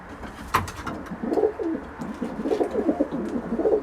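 A couple of pet pigeons or doves coo softly and repeatedly at close range, with low rolling calls and a few faint chirps and clicks around them.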